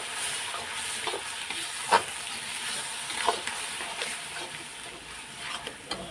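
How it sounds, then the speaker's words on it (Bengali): Spice paste with onion and garlic frying in a pan for Bengali chicken kosha, a steady sizzle with scraping stirs and a few sharper clinks of the spatula, close up and alone. "দিয়ে দেখো মশলাটা কষানো হচ্ছে এখন"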